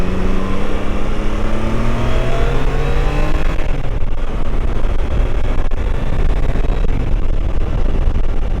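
A 2022 Triumph Tiger Sport 660 motorcycle being ridden, its smooth engine droning loud and close with rising and falling pitch sweeps under heavy wind rush, no talk.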